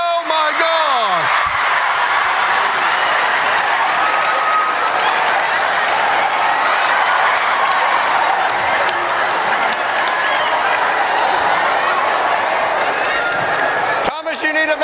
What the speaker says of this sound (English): Give Thomas a round of applause